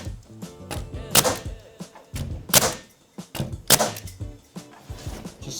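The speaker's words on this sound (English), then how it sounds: "let's go ahead and shoot some nails" A SpeedSpike collated nail gun drives nails in a quick series of sharp, loud bangs, each followed by a short thud and clatter, with uneven gaps between shots.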